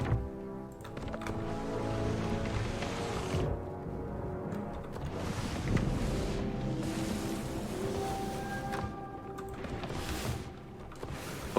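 Steady wind and rushing water from a sailing ship in a video game, a continuous broad wash with tonal hums layered over it, filling the whole stretch without talk.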